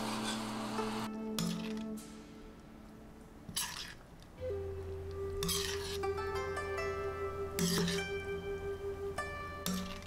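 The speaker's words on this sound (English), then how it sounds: "add the mirin to the pan to deglaze the bottom" Pork and shallots frying in a pan, deglazed with mirin for a savory pork noodle sauce, with steady sizzling, bursts of hiss as liquid hits the hot pan, and clinks of a utensil against the pan.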